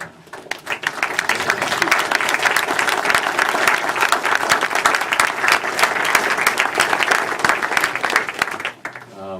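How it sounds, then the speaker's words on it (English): Audience gives staff members a loud, sustained round of applause during a presentation, dense clapping from many hands that fades at the very end. "I'd like to give you a big thank you, applause."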